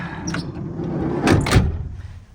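Sliding door of an Eagle Summit / Mitsubishi Expo van opened from inside after a handle repair, a rolling rumble with a couple of sharp latch clunks, close and loud.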